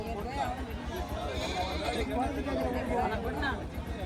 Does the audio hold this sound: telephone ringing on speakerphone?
no